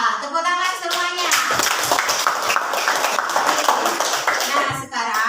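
Students in a classroom clap together, a steady group clapping that runs for several seconds with voices mixed in.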